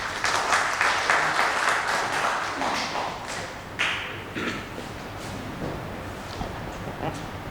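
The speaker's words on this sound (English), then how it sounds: "A round of applause for sir," Applause for the chief guest at a Kolkata heritage event, a burst of scattered clapping that is fairly loud at first, then thins and fades to a few faint claps with some knocks and background talk.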